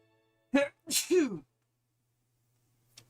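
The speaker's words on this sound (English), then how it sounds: "Oh, I'm gonna sneeze." A single person sneezes up close: a quick sharp intake, then a drawn-out voiced burst, followed by near silence and a faint short breath at the end.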